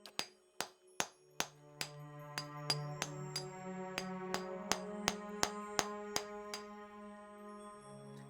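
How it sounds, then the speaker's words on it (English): Hammer and chisel striking brittle rock in a tunnel in the fantasy role-playing game Pillars of Eternity: about eighteen sharp, ringing metallic blows in a steady rhythm, loud and close, with resonant tones sustaining between strikes and no voices. "Widen the tunnel with a hammer and chisel."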